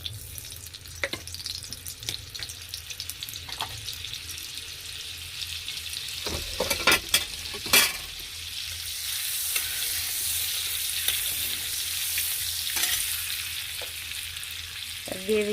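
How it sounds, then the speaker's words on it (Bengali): Ghee and butter melting and sizzling in a pan, a continuous hiss punctuated by several sharp clatters and scrapes around the middle, close and fairly quiet, with no talking. "ঘি দেব, ঘির সাথে একটু বাটারও দিয়ে দেব।"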